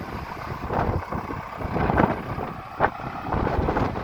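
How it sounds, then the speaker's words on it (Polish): Gusty wind rushing past and buffeting the microphone outdoors, a steady roar that swells and eases in uneven bursts, with no talking. "Raz wieje, raz nie wieje."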